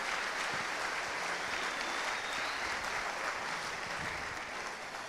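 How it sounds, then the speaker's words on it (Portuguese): Strong, sustained applause from a church congregation cheering for Jesus during a Portuguese-language sermon, dense and steady clapping filling the room for several seconds with no speech over it. "Dê para Jesus uma forte salva de palmas."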